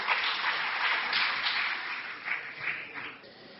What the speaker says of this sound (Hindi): मैं आप सबसे आग्रह करूंगा कि तालियों